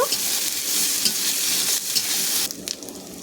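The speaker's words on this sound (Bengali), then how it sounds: "আদা রসুনটাও এখানে ভালো করে ভেজে নিয়েছি পেঁয়াজের সাথে" Ginger-garlic paste fries with onions in a pan, giving a steady close sizzle as it is stirred, easing off toward the end with a few clicks of the utensil.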